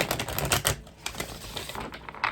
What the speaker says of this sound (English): don't know why I had to keep shuffling over and over